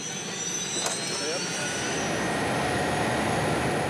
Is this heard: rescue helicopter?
yes